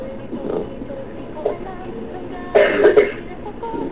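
A few rough coughs, one brief and then a louder cluster near the end, close to the listener against a quiet room background.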